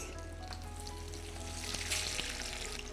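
Continuous bubbling sizzle of potatoes deep frying in hot oil, steady and close, with a faint stir or clink partway through.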